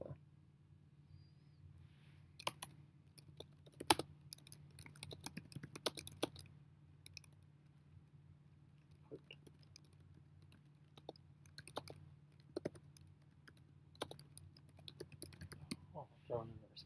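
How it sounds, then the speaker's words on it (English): Fingers tap on a computer keyboard in irregular bursts of quick clicks with pauses between, faint and close, over a low steady room hum, with a person speaking quietly at times. "I'm not typing well."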